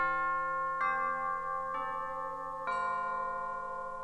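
A clock bell chimes the hour with three evenly spaced resonant strikes, each ringing on and overlapping the next, clear and alone in a live radio-theatre staging of A Christmas Carol.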